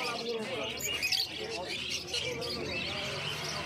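Caged birds at a pet market, among them lutino cockatiels and an albino pair, chirp and tweet busily and fairly loudly while a person talks over them.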